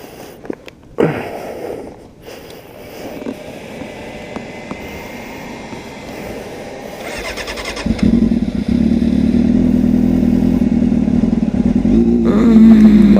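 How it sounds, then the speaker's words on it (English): A motorcycle left unused for a while struggles to start, with scattered cranking and sputtering before the engine catches and settles into a loud, steady, nearby rumble. "Bike hasn't been started in a while, so it's gonna struggle."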